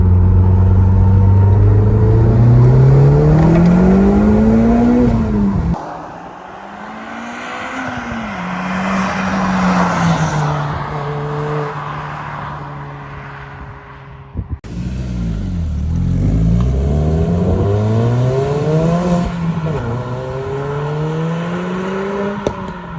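A big-turbo Audi S3 accelerates hard in second gear, its engine note rising loud and close in long sweeping pulls, with a brief lift and gear change before revving strongly again, no talk over it.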